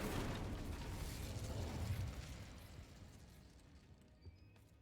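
An Incendio fire spell is cast in Hogwarts Legacy and goes off in a loud, whooshing burst of flame. The roar fades gradually over several seconds into near silence, with a faint pop near the end.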